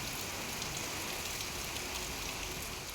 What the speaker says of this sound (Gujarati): ગાજવીજ અને પવન સાથે દક્ષિણ ગુજરાતના જિલ્લાઓની અંદર વરસાદ ખાબકી રહ્યો છે।